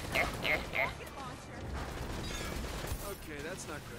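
Gunfire in Uncharted: Drake's Fortune, a few quick bursts of shots early on then scattered sharper cracks under continuous excited talk from players.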